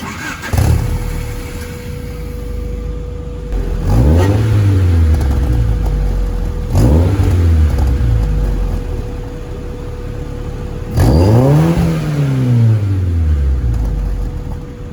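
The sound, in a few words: Honda Civic engine revving with sport exhaust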